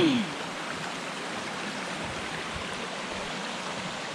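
Mountain stream on a trail near Shelburne Moriah and Mount Moriah rushing into deep pools, a steady broadband wash of flowing water, close and continuous with no voices.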